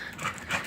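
A pet dog panting close by in short breathy bursts, two soft swells of rapid breathing with faint whimpery edges, no talking.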